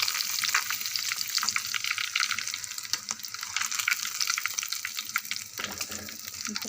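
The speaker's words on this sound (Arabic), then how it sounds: "انا مبحبش احط السمك في زيت كتير" Tuna fish frying in a small amount of oil, a continuous close crackling sizzle with light stirring and spatter throughout, no talking.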